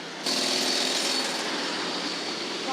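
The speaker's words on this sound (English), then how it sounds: "We're going by a construction site, so apologies for the noise from that." Construction site noise heard while walking past in Bedok, Singapore: a sudden, loud, continuous grinding drone like a power tool or jackhammer, steady after a sharp onset, with no talk.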